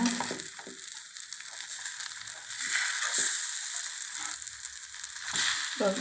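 Eggs fry in a pan with a steady, close crackling sizzle that runs throughout, broken by a few soft scraping stirs and light clinks.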